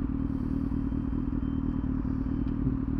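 A motorcycle fitted with a loud aftermarket exhaust idles and burbles close by, a steady deep throbbing rumble with no talk.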